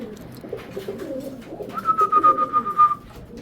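Pigeons coo close by in a low, soft murmuring rumble, joined midway by a thin, clear whistle-like note lasting about a second, with no people talking.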